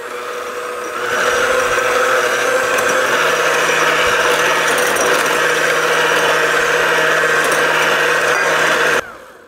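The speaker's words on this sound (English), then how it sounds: "So just go slowly and continue whisking on medium speed." Electric hand mixer whisking egg whites with sugar at medium speed for French macaron meringue, a steady close whirring motor hum that starts about a second in and runs evenly until it cuts off near the end.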